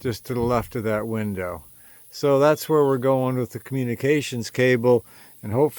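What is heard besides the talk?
No everyday noises stand out.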